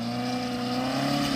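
A Gypsy 4x4 stuck in mud while off-roading, its engine holding a steady, droning rev at close range with no break.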